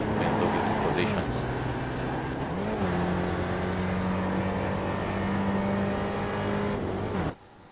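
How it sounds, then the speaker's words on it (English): Race cars in a sim racing video game at Summit Point, steady engine whine with gear-shift pitch changes as several cars go past, commentary voice over it, cutting off abruptly near the end. "a lot of cars passing him"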